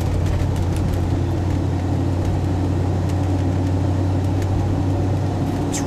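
Interior of a 1994 Ford Bronco with a 6-inch lift and 35-inch tires rolling down the road, a steady low engine and drivetrain drone with constant road rumble, even and unbroken throughout.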